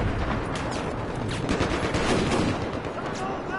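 Dense, continuous video game gunfire, rapid automatic bursts and shots layered over one another at steady loudness throughout.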